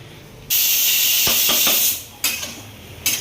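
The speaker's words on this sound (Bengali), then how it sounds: "মটনটা এখন কষাচ্ছি" Two kilograms of mutton stir-fry in a hot pan, bursting into a loud, close hiss that breaks off and flares up again in surges, with a few metallic clinks of a utensil in between.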